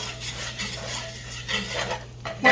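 Flour browning in a pan for hot German potato salad, a soft sizzle under repeated scraping and stirring of a utensil against the pan, close and moderate, ending in a sharper clatter.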